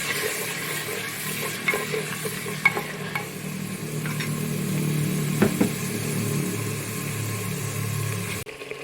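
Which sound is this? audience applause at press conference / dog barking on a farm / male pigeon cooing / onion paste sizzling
onion paste sizzling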